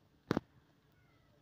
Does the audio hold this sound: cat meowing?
yes